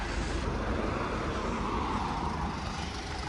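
A cheap used Volkswagen Jetta with a damaged, oily sump runs steadily. A loud, continuous broadband rumble holds an even level throughout, with no talking over it.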